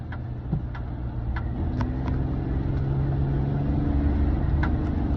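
A pickup truck with a reluctant transmission drives along, a steady low engine rumble and road noise inside the cab with faint intermittent ticking clicks.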